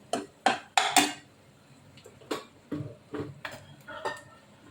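A metal spoon clinks and scrapes against a pan in a string of sharp, uneven taps while turmeric is mixed into ragda, close and clear with no voices.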